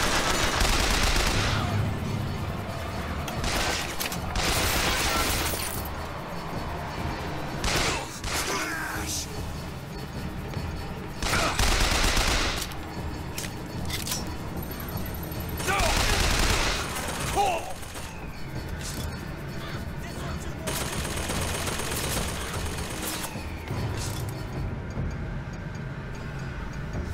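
Enemy gunfire in the video game Bioshock Infinite, with repeated loud bursts of shots and rapid fire spread across the stretch, set over steady game noise and combat effects, with speech mixed in.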